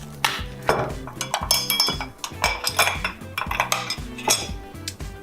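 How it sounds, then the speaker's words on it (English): Large ice cubes dropped into a glass while mixing a whiskey Old Fashioned with Bittermilk give a run of close, bright clinks and knocks, with several sharp hits in quick succession. "We're gonna put our ice cube in."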